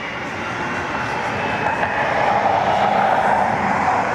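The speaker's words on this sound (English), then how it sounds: "UPS taxiing out for their flight to Louisville." A UPS cargo plane taxies out at Cleveland Hopkins airport, its jet engines giving a continuous broadband roar and whine heard from a moderate distance, slowly swelling louder.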